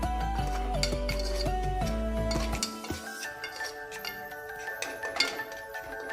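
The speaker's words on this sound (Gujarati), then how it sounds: "હવે બધું આપણે મિક્સ કરી લઈશું અને સરખી રીતના હલાવી લઈશું" Moong dal mixture being stirred in a pot: a spoon clinks and scrapes against the metal in quick, bright, ringing taps, loud and close, with no talk.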